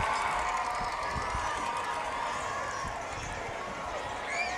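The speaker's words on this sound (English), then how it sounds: "As we hear this Stevenson crowd getting excited here on third down and 7." Home fans at a Stevenson high school football game roar on third down and seven, a dense, steady wash of crowd noise that swells toward the end.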